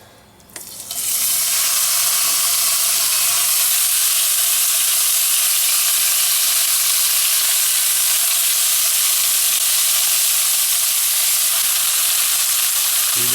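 Beef browning in hot olive oil in a pan for a Madras curry: a loud, steady sizzle rises sharply within the first second and holds evenly without a break, with no voices.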